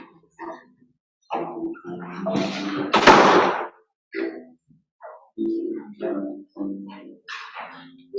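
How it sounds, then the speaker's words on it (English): A door is shut once in a room where people are chatting, giving a single sharp slam-like thud midway through the surrounding conversation. "I'll just shut the door."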